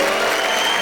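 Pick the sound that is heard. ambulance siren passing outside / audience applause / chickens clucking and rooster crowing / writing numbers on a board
audience applause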